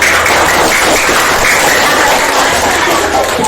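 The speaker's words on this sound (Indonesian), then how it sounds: "Tepuk tangan buat Nova" A classroom audience applauds a student named Nova, a short burst of dense, loud clapping that stays close and even from start to finish, with no clear talk over it.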